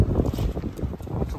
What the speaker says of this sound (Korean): 엄청 바람 불고.